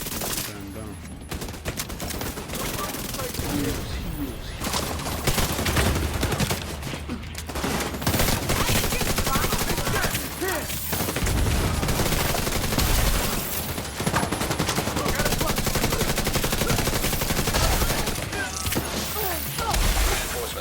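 Dense, nearly continuous gunfire in a shooter video game: rapid automatic bursts and crashing impacts layered over each other for about twenty seconds, loud and busy, with some talking mixed in.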